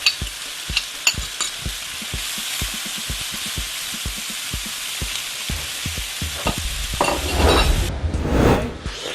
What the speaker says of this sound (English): So what we're going to do is going to add our onions. Okay, so we add some onions on top.